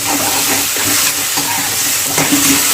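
Tomatoes and onion fry in a pan for a rajma (kidney bean) curry, giving a steady, close sizzle with faint stirring scrapes and no talking.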